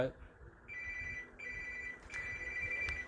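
A telephone ringing with an incoming call, a repeating bright electronic ring in short bursts over a low background hum, fairly close and clear.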